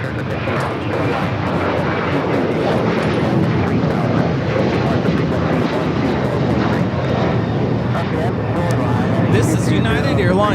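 A United Airlines Boeing 737-900ER takes off from LAX, bound for Washington Dulles. Its full-power engine roar stays loud and steady throughout, with some voice activity mixed in.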